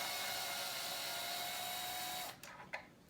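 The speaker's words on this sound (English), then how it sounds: "I got my drill" A power drill whines steadily at high speed removing gear cover screws on a Traxxas X-Maxx 8S RC truck, then stops, followed by a couple of light clicks and taps.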